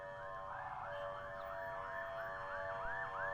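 Police siren in the video game Outside the Door, a steady wailing sweep that rises and falls in a repeating cycle, moderately distant and continuous, with no voices.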